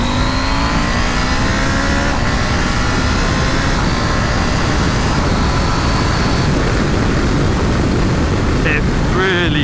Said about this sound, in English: we can give you a quick demo of the engine because it is just fantastic